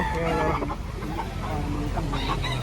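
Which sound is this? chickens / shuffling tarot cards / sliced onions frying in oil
chickens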